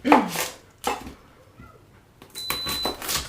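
A knife chops an onion on a cutting board in a home kitchen, giving a few separate close, sharp strikes spaced apart with short quiet gaps between them.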